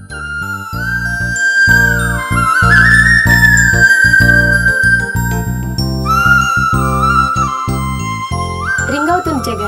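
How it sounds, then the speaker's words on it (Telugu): A mobile phone ringing during a call, heard as a loud bright electronic melodic ringtone of repeating chimed notes, continuous and close. "రింగ్ అవుతుంది"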